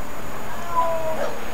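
A cat meows once, softly and briefly, inside the indie horror game Simulacrum, heard faintly over a low room-tone background with no talking.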